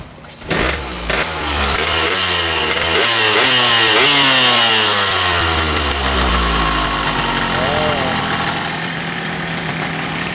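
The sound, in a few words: two-stroke motorcycle engine running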